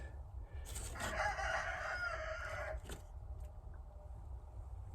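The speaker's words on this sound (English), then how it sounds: "Chickens are doing great." A chicken crows once, a single drawn-out crow lasting about two seconds. It sounds moderately distant and quiet, with faint background hiss before and after.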